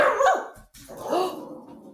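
A dog barks twice, close and loud, with a short pause between the two yelping barks, alone without talk.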